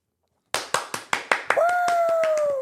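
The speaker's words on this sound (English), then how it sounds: "Thanks for the clap, Ethan." One person claps six times in a quick, slightly uneven run, close and crisp in an otherwise quiet room, followed by a sustained whistle-like tone.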